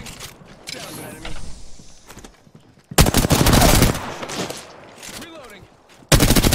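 R-99 submachine gun fire in the Apex Legends video game comes in loud rapid bursts broken by quieter mechanical clicks and reload clatter, with game sounds between the volleys.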